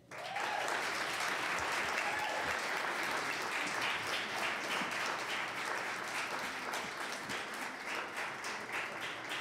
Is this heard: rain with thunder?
no